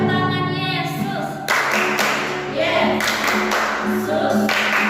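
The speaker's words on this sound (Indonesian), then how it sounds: "Tepuk tangan Yesus" Hands clapping during Sunday school worship at a GPdI Pentecostal church in Indonesia: loud, steady claps close by, with a singing voice at the start and voices over the clapping.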